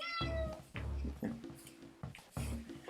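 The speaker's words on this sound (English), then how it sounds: "everybody likes cat meows" A cat meows repeatedly and insistently close by, several drawn-out, wavering meows in quick succession, loud and alone.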